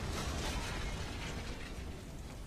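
A video game explosion rolls out as a broad, dense rumble that holds steady and loud, then eases slightly toward the end, with no voices over it.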